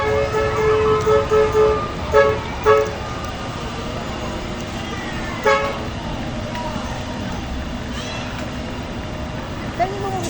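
Boat horns toot several times from a distance, short tonal blasts in a quick cluster and then single calls, over a steady vehicle rumble while people talk nearby.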